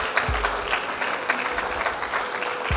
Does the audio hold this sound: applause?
yes